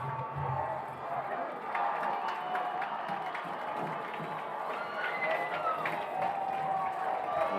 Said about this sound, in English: Cheers from the Mustang crowd.